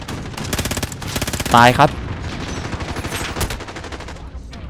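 Rapid gunfire from the video game Call of Duty Modern Warfare, a sniper-focused match, with sharp repeated shots in quick bursts and a brief rising electronic tone in between, while a player talks over the action.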